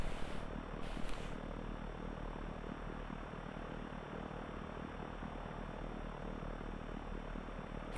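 A propeller aircraft engine idles at about 1000 RPM in the X-Plane flight simulator, a steady, even drone with a low hum that holds throughout.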